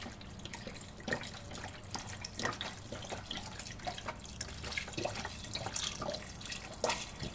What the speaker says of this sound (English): So we're now going to throw in our broth.